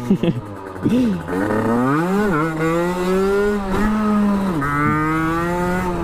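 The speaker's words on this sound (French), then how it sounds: "je vous propose qu'on se quitte sur ce wheeling là, le dernier wheeling" A motorcycle holds a wheelie in first gear, its engine droning loud and close at a high, steady pitch that rises and dips as the throttle shifts, with a brief drop near the end.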